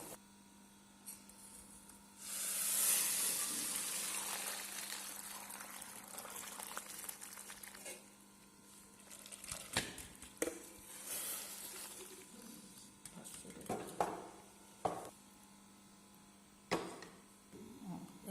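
Cooked pasta tipped into a strainer, water rushing and splashing loudly for a few seconds, then fainter trickling and scattered clinks of the pot and strainer in a home kitchen.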